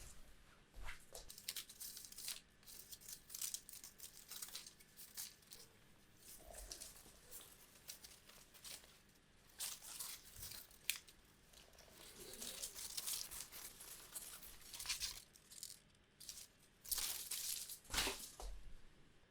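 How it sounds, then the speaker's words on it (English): A sheet of paper tearing and crinkling as someone steps through it, with a long run of soft rustles, rips and crumpling crackles that swell and fade over many seconds, close up and quiet. "I stepped through a piece of paper"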